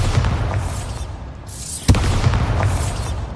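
A Bombarda explosion spell goes off in Hogwarts Legacy as one short, sharp blast that cuts through a steady bed of low rumbling game ambience.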